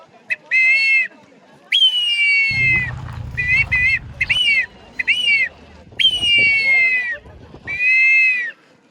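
A handheld whistle imitating hawk and puma calls blows a run of shrill, bird-like calls, short bursts alternating with long drawn-out cries, with a low rumble beneath some calls.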